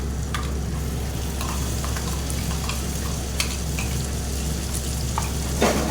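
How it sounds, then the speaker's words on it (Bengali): Paste of ground tomato and garlic goes into a pan of dried fish, onion and green chilli already frying in oil, giving a steady close sizzle with a few soft stirring scrapes and a small splatter near the end. "এখন এখানে দিয়ে দেবো টমেটো বাটা আর রসুন বাটা।"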